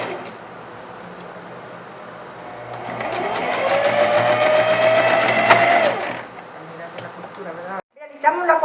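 A sewing machine runs steadily, stitching the seam of a girl's dress, with its motor whine climbing and holding before stopping; someone talks over it throughout.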